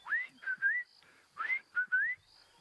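Human whistling imitates a southern boubou call, a short series of clear rising and level whistled notes in two phrases, close and fairly soft against quiet outdoor background.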